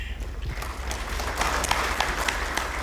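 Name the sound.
audience applause at press meeting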